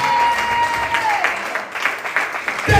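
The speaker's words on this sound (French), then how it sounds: "Acclamons les Seigneur. Acclamons le Seigneur Jésus-Christ" A church congregation claps and cheers during a worship service, a dense burst of applause heard up close that rises and falls over a couple of seconds.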